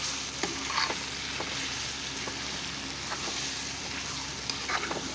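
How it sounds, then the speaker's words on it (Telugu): Brinjal and chicken curry coated in chili powder fries in a pan while a ladle stirs it, giving a continuous sizzle broken by repeated scraping clicks and knocks; no speech. "కారం బాగా పట్టే విధంగా గరిటెతో కలుపుకోవాలండి మొత్తం"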